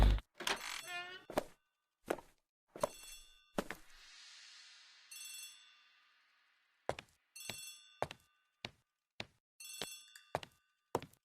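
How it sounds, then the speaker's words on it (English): A telephone in a hall rings in the Agatha Christie ABC Murders video game, sounding as a series of short, sharp bell bursts at fairly regular intervals, with a longer fading tone partway through, fairly close and alone. "The telephone in the hall is ringing."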